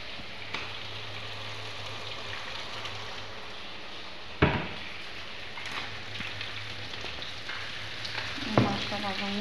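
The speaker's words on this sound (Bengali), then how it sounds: "মাছটা ভাজা হয়ে গেছে।" Fish fries in oil in a pan, a continuous close sizzle and crackle broken by a few sharp utensil knocks against the pan, with no talking.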